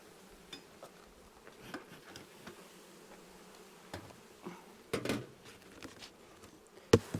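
Honey bees hum steadily around an open hive during a split after the harvest, a low continuous buzz close by with occasional louder passes and a few small knocks from the hive.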